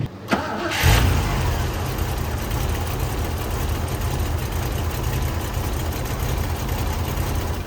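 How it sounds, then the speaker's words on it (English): An MGB GT V8 police car engine cranks and catches, then settles into a steady, rumbling V8 idle close by that continues without a break. "So this V8 engine, that's interesting."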